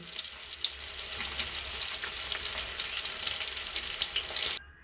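Fish fries in hot oil with a loud, steady sizzle and crackle that cuts off abruptly just before the end.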